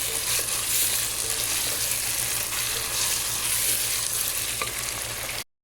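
Chicken white karahi with cream frying in a pan while being stirred, a dense continuous sizzle with a low rumbling hum underneath, close and loud, cutting off abruptly at the end.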